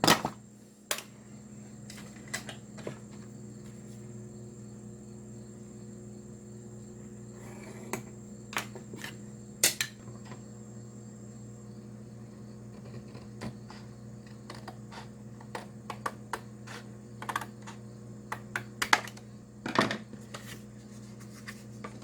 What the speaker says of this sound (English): Good old fish paper sound to it when you cut it.